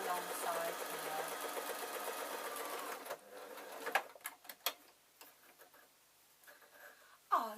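A sewing machine stitching a seam along suit trousers, whirring steadily and fairly close for about three seconds, then stopping into scattered clicks, handling taps and quiet pauses.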